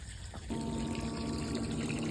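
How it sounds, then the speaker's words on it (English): A submersible pump runs in hot tub water being preheated by a wood-fired pool heater, starting up after a quiet moment into a steady, close electrical hum mixed with soft, continuous water churn. "So there's my submersible running."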